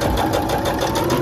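Sewing machine stitching along the edge of a teddy bear ski mask, a loud, close, continuous rapid mechanical whir with no voices over it.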